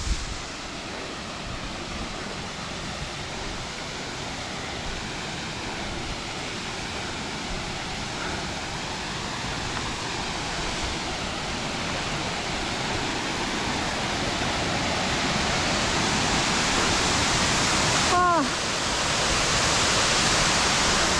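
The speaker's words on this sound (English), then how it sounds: "here's the waterfall." A waterfall in Kyrgyzstan roars steadily as a broad, even rush of falling water that grows slightly louder, with a short faint whistle-like sweep near the end.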